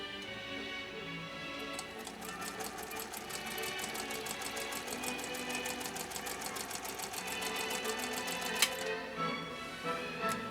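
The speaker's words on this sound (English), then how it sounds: "we're going to be sewing this at 6 stitches per inch" A 1930 Singer 101-4 sewing machine stitches leather at six stitches per inch. It gives a fast, steady, even ticking chatter that runs almost the whole time at moderate loudness, with one sharper knock near the end.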